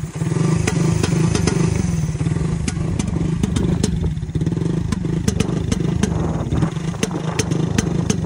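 Motorcycle engine idling with a low, lumpy rumble, loud and near for the whole stretch, with sharp ticking clatter pulsing through it and no voices.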